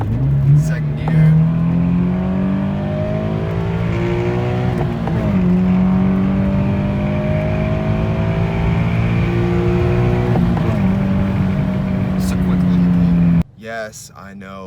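A Subaru BRZ accelerates through rush-hour traffic, its engine note climbing in pitch and dropping at each gear change, loud and close from inside the car, with a brief disturbance at the very end.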